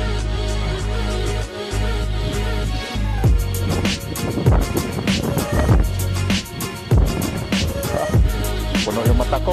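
A strong sandstorm wind in Riyadh roars steadily into the microphone, a loud continuous rumbling buffet with gusting surges and debris knocking about throughout.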